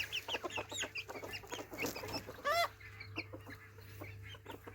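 Garden chickens clucking and squawking in a busy overlapping chorus, one louder rising call standing out midway, close by with a faint steady hum underneath.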